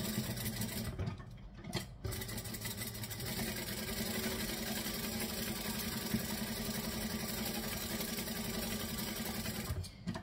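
A sewing machine stitches and backstitches around the curve of a fabric saddle bag, humming steadily and closely with two brief pauses for the reversal near the start.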